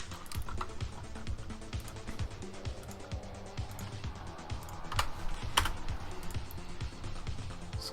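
Rapid typing on a computer keyboard during 3D modelling work for a Minecraft mod creature, a steady patter of close key clicks with a few louder strokes, no talking.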